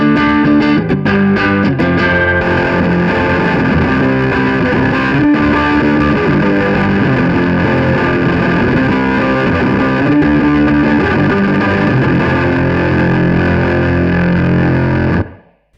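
Electric guitar through a maxed-out distortion pedal on its Turbo 2 setting plus a chorus pedal, playing a loud, dense, boomy sustained riff for about fifteen seconds before cutting off abruptly, with no voices.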